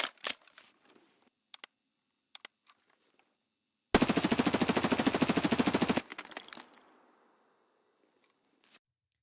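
An MP5K submachine gun in Escape From Tarkov lets loose a single sustained fully automatic burst of about two seconds, loud and rapid. A few sparse clicks and handling taps come before it, and a short decaying tail follows.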